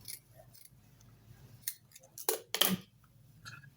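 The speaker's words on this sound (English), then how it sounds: "So trim off as much as you can, very close to the seam line." Scissors trim fabric close to a beret seam, heard as a few crisp, close snips clustered together against a quiet background, with no talk.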